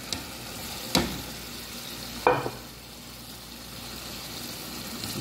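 Onions cooking in a pan with liver and soy sauce make a soft, steady sizzle, broken by two sharp clatters of stirring or a utensil against the pan.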